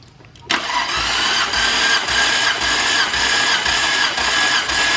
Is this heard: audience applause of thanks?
no